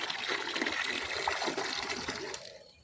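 Liquid fertilizer water pours steadily onto plants from a one-liter container, a continuous splashing gush that fills the whole stretch and tapers off at the end, with no talking.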